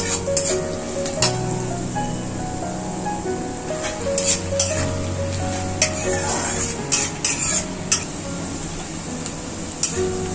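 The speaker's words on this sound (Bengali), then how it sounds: "পেঁয়াজটা নরম করে আমি এখন ভেজে নেব।" Onions fry with a little salt in a pan for a country-chicken curry, giving a steady sizzle throughout with frequent sharp clicks of a spatula stirring against the metal.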